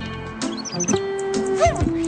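Small birds whistle and chirp in a few short, bright bursts over soft background music, close and fairly quiet.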